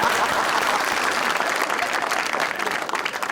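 Studio audience at a live talk show breaks into applause, a dense wash of many hands clapping at once, steady and fairly loud throughout the short burst, with no talking over it.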